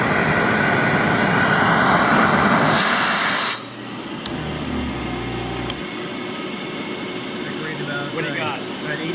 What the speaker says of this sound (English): Let's turn on both vac motors.